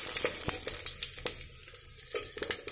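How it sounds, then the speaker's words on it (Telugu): Dried red chillies and tempering spices splutter in hot oil for a village-style pappu charu, a dense crackling sizzle with sharp pops scattered throughout, close and alone. "పోపు దినుసులు బాగా చిట్టపట్టలాడుతుంది"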